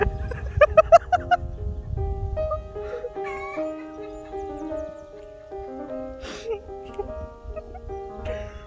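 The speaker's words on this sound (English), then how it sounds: "We have a chicken song happening in the background" Chickens on a farm cluck and call in a steady background chorus, with a louder burst of bird calls near the start and faint rustling beneath.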